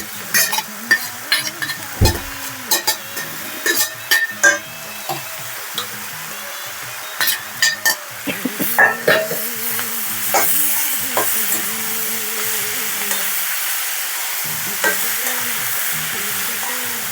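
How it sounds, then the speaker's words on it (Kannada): Legumes being tipped into a pan of browned onions and stirred, with steady sizzling frying under repeated scraping spoon strokes and clinks against the pan, close and without voices. "ಇದಕ್ಕೆ ಇವಾಗ ನಾನು ಕಾಳು ಸೇರಿಸ್ತಾ ಇದ್ದೀನಿ."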